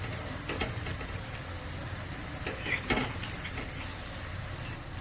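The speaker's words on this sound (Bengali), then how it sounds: "আমি সাদা তেলে ভাজছি, সাদা তেলেই তোমরা ভাজবে।" Ras bara lentil fritters fry in white vegetable oil, a soft continuous sizzle broken by scattered stirring scrapes and light clicks of a utensil, heard close and fairly quiet.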